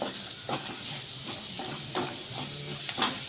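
Egg curry gravy with kasuri methi frying in a pan, a steady close sizzle and hiss with soft stirring scrapes recurring every half second or so.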